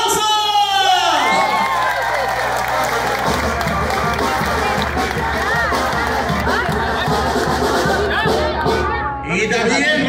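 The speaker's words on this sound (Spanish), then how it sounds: "¡los aplausos!" Crowd applause and cheering at a municipal campaign rally for a mayoral candidate in Teopisca, Chiapas, with loud clapping, shouts and chatter beneath an amplified voice and music, with children's cries mixed in.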